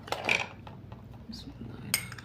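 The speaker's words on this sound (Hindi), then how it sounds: "अब हम इन सारी चीज़ों को कर देंगे अच्छे से मिक्स" A spoon clinks and scrapes against a bowl while homemade cream ingredients are stirred together, a few light, close taps and scrapes over a quiet room.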